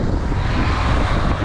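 Headwind buffets a microphone during a bicycle ride in Spain, a loud, steady low roar of wind rushing throughout with no pauses.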